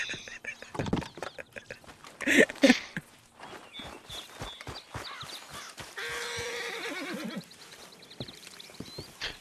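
A horse in the Red Dead Redemption 2 video game whinnies and clip-clops through a run of footsteps, with one louder burst midway, while people talk quietly over it.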